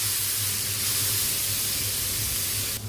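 Ginger and garlic frying with onion in a hot pan for a Malvani-style shark fish dry masala: a steady, loud sizzling hiss throughout, cutting off abruptly at the very end, no talking.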